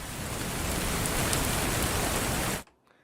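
A rain sound effect plays for a weather report segment on a sports show, with steady, loud hissing rainfall filling the space for about two and a half seconds before cutting abruptly to near silence.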